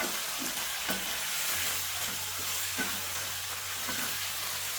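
Sweet and sour vegetables with cucumber stir-frying in a pan, a steady broadband sizzle with a few spatula scrapes and clicks, close and continuous with no talking.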